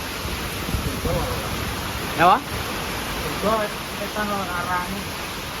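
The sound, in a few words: rain falling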